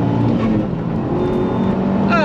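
A 380bhp Seat Leon Cupra track car holds its engine at the rev limiter, making a loud, steady, buzzing drone heard close. A faint higher tone runs over it and a sharp rise comes at the end.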